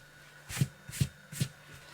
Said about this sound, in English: So now I'm going to erase the rest of this line.